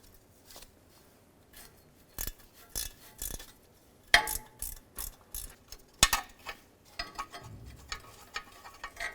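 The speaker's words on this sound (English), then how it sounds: "Now remove this 10mm nut off of the stud" A ratchet works a 10mm nut off a heat shield stud under a 2004-2009 Dodge Durango, with sharp irregular clicking bursts and metallic clinks, close and fairly quiet, no talk.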